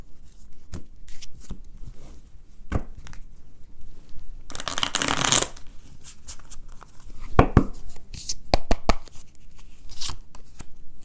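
An oracle card deck being shuffled by hand during a reading, with quick flicks and riffles scattered throughout and one longer, louder burst of cards rustling midway.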